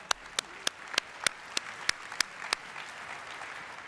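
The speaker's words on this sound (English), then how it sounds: "I want all of you to give yourselves a round of applause." Sharp, evenly spaced claps ring out about three times a second in a conference hall at a Bitcoin event, fading after a few seconds over a faint, hissy room background.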